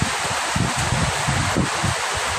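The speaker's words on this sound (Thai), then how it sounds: "แต่ลมแรงมากทุกท่านทุกคน" Strong wind gusts in a constant loud roar with rustling leaves and buffeting rumble against the microphone, steady and close throughout at a rural home where seeds are laid out to dry.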